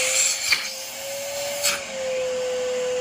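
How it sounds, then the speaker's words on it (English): A wet vacuum cleaner runs steadily with a constant whine, used to draw suction on a hose for siphoning gas, with a couple of brief bursts of noise over the drone. "I do use a wet vacuum just to get the pressure started"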